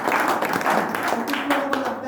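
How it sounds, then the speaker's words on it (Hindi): An audience at a business seminar claps in a loose burst of applause, the hand-claps mixed with talk and fairly close. "उनके लिए एक जोरदार ताली हो जाए।"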